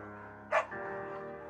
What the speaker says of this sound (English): Bucket's a good dog.